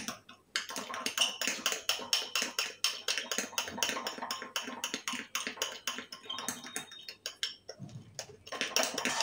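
Spoon rapidly beating a coffee and sugar mixture in a cup until it turns to thick cream-like foam for cappuccino, a steady fast run of clinking, scraping strokes, close and alone without talk.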